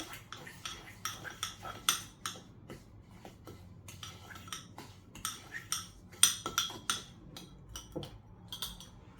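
A spoon clinks and scrapes against a bowl while an aloe vera and sugar face scrub is mixed, giving irregular close taps and scraping strokes with quiet pauses between them.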